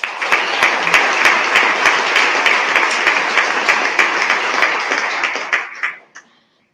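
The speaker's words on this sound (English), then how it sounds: "Please join us in applauding their dedication to fostering a positive and constructive digital learning environment." An audience at a school board meeting gives a loud, steady round of applause lasting several seconds, many hands clapping densely before it tapers off and stops near the end.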